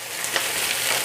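Sausage browns in a pan with a steady, close, bright sizzle, an unbroken hiss of frying that carries a couple of faint crackles.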